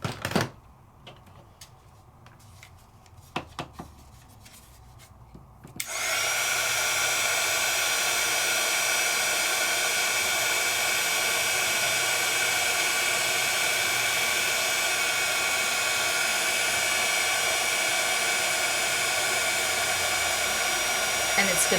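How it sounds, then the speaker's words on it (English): A crafting heat tool melts embossing powder, switching on after a few seconds of quiet tapping and handling noises and then blowing in a loud, steady, continuous whoosh close by until the end. "Let's get my heat tool."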